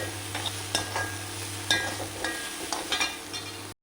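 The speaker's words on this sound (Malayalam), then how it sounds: "ഇത് നല്ലോണം മിക്സ് ചെയ്തെടുക്കാം." Fried rice with soy sauce and tomato sauce is stirred in a hot pan: a soft, steady sizzle under repeated scraping and tapping strokes of a spoon or spatula, close and fairly quiet, ending in a brief silence.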